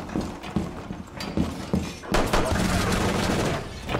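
Rapid bursts of gunfire in the tactical shooter Rainbow Six Siege, with clustered shots in the first seconds and then a sustained, loud stretch of firing.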